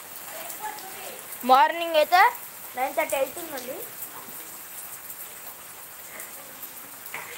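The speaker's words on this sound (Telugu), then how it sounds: "ఇప్పుడైతే వర్షం పడుతుంది" Steady rain falls and patters on surfaces in a constant hiss, with a person speaking briefly over it.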